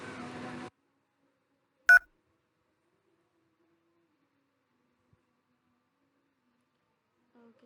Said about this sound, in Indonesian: Kita ketikkan nomor yang akan ditelepon